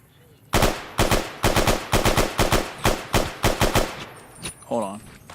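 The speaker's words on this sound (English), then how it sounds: "something's shooting at me" Gunfire in a video game: about ten loud, rapid bursts of automatic fire in quick succession, followed by a brief voice as the shooting stops.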